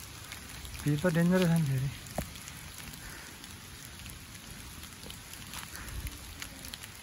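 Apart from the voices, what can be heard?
rain falling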